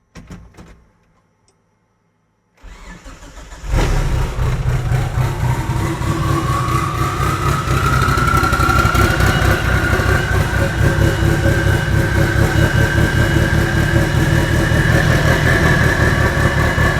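A car engine cranks and catches after a brief silence, then settles into a loud, steady idle up close during an ignition timing check with an ECU connector attached.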